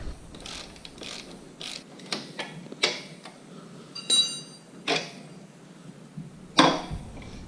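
A breaker bar ratchets as it loosens a shock bolt on a Vader 125 motorcycle, a Grom clone, giving a scattered series of sharp, close metallic clicks with short quiet gaps between them.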